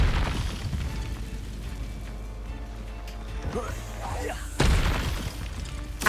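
An Incendio fire spell is cast in Hogwarts Legacy. A sudden fiery burst whooshes up near the end, over a low game rumble with a voice nearby.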